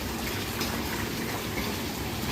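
Water jets of a jetted bathtub running in a shallow fill of about two inches of water, giving a steady, close, broadband rush and churn that continues without pause and without talk.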